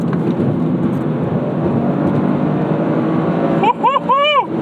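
A Toyota GR Corolla engine drones steadily under load with road and wind roar, then the revs blip sharply up and down during a double-clutch shift near the end, while a voice speaks over it.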